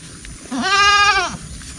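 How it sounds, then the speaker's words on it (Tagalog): A single goat bleats once, a loud wavering nasal cry lasting under a second, close by against faint background noise. "Kurang cute ang kambing na ito"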